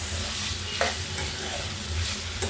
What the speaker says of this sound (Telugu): ఒకసారి బాగా కలిపేసుకుందాం.